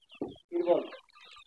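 Chickens clucking inside a poultry farm shed with a tarpaulin laid on the floor, a short cluck followed by a longer throaty burst of calls, fairly close and moderately quiet.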